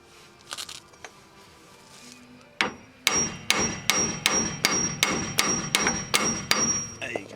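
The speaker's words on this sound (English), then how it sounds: "just whack this bit with a hammer, and hopefully it should split" A hammer strikes the drive shaft CV joint on a Citroen Saxo to split it, with two early blows and then a steady run of about ten loud, sharp metallic whacks at an even pace.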